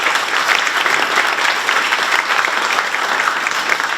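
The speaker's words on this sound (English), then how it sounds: "If you would please give her a round of applause" Dense, steady applause from an audience at a 2019 high school awards ceremony, honoring the senior class advisor, sustained at an even level throughout without talk.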